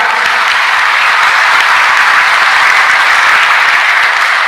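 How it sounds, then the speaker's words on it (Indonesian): Loud, dense applause from an audience at a religious talk in Indonesia, a steady wash of many hands clapping that holds evenly for the whole stretch with no voices on top. "Tepuk tangan."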